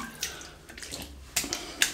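A shaving brush is rinsed under a running tap, giving a brief, soft wash of splashing water with a few small spatters.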